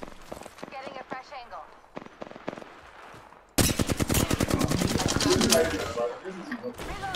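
Rapid video game gunfire in a multiplayer match, a sudden loud burst of dense automatic shots that runs steadily for several seconds after a stretch of talking, with voices continuing over it.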